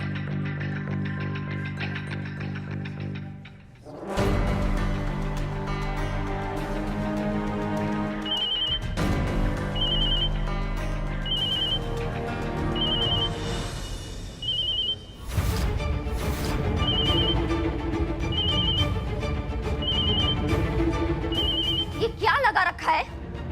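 A telephone rings in repeated short bursts at an even rhythm, two spaced series of trills, heard over dramatic background music with swelling tones and sudden hits in a Hindi TV serial scene.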